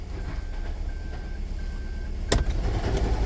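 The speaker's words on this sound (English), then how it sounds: "as soon as I move the vehicle to P position, the rattling or banging, loud banging noise" Toyota Estima Hybrid with a 2AZ-FXE engine misfiring across several cylinders, a steady rough engine drone with a sharp loud bang near the middle followed by continued rattling and knocking.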